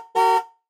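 A cartoon-style car horn from a toddler educational app gives a single short, loud, bright honk lasting under half a second.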